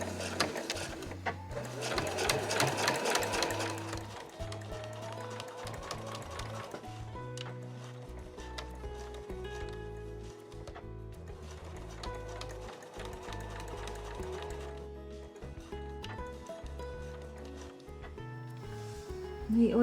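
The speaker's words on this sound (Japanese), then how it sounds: "そしたら今度は1センチでそれぞれを縫います。 で重なりのあるところは返し縫いをします。" A sewing machine stitches a reversible drawstring bag seam with rapid mechanical chattering in bursts, pausing and resuming, moderately quiet with someone speaking Japanese between runs.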